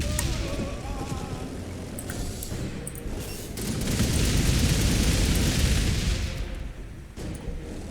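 Grenade explosions in the strategy game Gladius: Relics of War, a dense rumbling series of booms that swells into a sustained roar before tapering off, with no speech.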